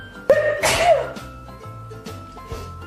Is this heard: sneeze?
yes